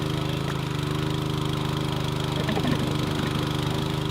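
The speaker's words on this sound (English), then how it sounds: "The engine is struggling to pull out now. It's pulling a lot of air." A hot spring water pump's engine runs steadily with a droning hum, struggling as it pulls air, with faint sputtering and gurgling bursts in the latter half; no talk.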